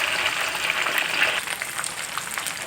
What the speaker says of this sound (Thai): ใช้ไฟกลางๆนะครับอ่อนๆกลางๆทอด ไปเรื่อยๆครับ